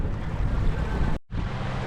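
A sailboat running downwind under its genoa at about six knots: steady broadband rush of wind and water over the hull, close and continuous, with a brief dropout partway through.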